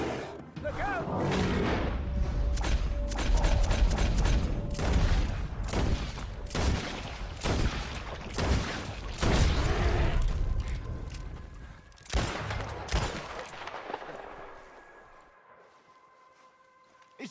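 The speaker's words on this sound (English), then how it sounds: "Shoot that thing, please!" Gunfire in Red Dead Redemption 2 during a frantic fight, with repeated loud shots and booming blasts in rapid irregular volleys, mechanical clatter between them, fading to quiet ringing at the end.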